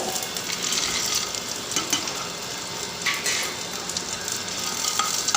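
Steady frying sizzle of ingredients sautéing in a pan for Tamil vatha kuzhambu, a continuous crackling hiss with occasional stirring scrapes, close and moderately loud, no talking.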